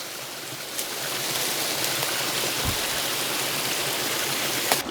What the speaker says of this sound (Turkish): suyun fazlalık kısmının dereden aşağıya doğru aktığını görmektesiniz